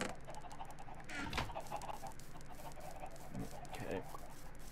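Minecraft chickens clucking in a large coop, scattered short clucks over a quiet background, with a voice talking at times.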